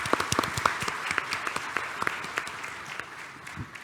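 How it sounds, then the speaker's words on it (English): Audience clapping in a steady wash of applause that gradually thins and fades over a few seconds. "let's give them a warm round of applause"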